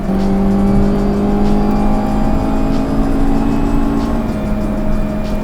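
A 1964 Hillman Imp race car engine idles with a steady, smooth hum and constant low drone, continuous and fairly loud, holding an even pitch throughout.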